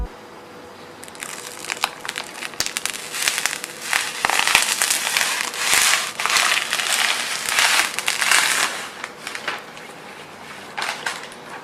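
Protective plastic film being peeled off a CyberPowerPC Gamer Ultra GUA883 desktop gaming PC, giving steady close crinkling and crackling with louder tearing bursts throughout, alone with no talk.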